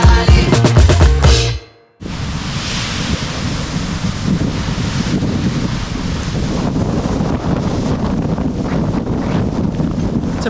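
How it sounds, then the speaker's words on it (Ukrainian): After a brief burst of music and a moment of silence, strong wind on Tierra del Fuego roars and buffets the microphone continuously, loud and rumbling. "Вчора був справді сильний вітер. Зараз він е, трохи послабшав, але все ще досі сильний."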